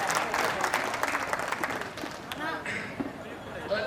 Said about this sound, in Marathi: टाळ्या वाजवून तरी थोडं प्रोत्साहन द्या